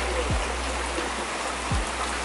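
Hot mineral spring water pouring out of rocks, a constant trickling rush heard close, with two brief low swooping thumps over the steady flow and no speech.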